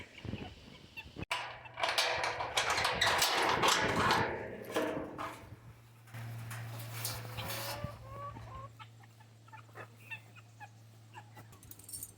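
Backyard chickens in a wire coop cluck and squawk in a burst of busy calls up close, then settle into softer intermittent clucks over a low steady hum.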